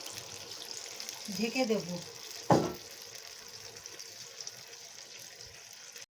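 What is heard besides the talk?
hot water being poured into a cooking pot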